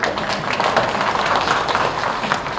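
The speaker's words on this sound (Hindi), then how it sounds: "अब इस बात को ताली तो बजा दीजिए जोर से" An audience at a political speaking event claps steadily, producing a dense, continuous patter of many hands with no clear pauses.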